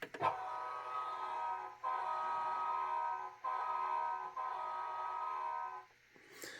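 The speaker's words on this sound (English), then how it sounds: "But with the whistle, you just hit it once." A toy train whistle, worked from a Power Chief transformer, blows in a few sustained, slightly reedy blasts with short breaks between them, fairly close.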